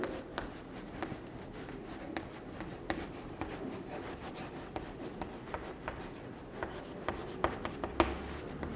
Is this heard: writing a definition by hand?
yes